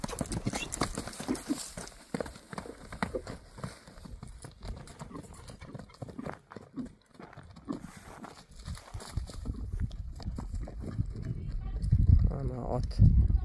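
Horse hooves clip-clop at a horse market amid continuous crowd chatter and outdoor noise. The hoof beats are irregular and moderately close, and they partly blend with voices and shuffling throughout.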